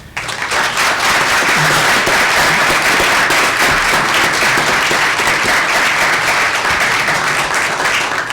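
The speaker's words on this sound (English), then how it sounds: "so let's have a round of applause for them." Sustained applause from a symposium audience on climate change and international stability, dense steady clapping that fills the room at full loudness for the whole stretch without letting up.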